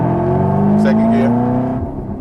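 A 2014 Chevrolet Camaro ZL1 with a six-speed manual revs loud and close after the shift into second gear, its engine note climbing steadily, then dropping off near the end.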